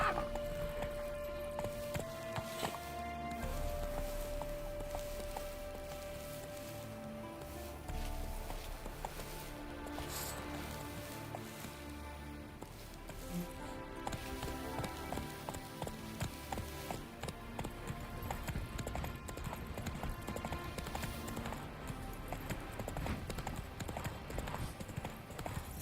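In The Witcher 3, the horse Roach gallops with a steady, rapid drumming of hooves over game music and ambient sound, continuing throughout at moderate loudness.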